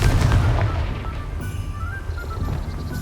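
A Confringo fire spell blasts in the Hogwarts Legacy video game: a heavy, booming explosion up front that rumbles and fades over a few seconds, loud and close.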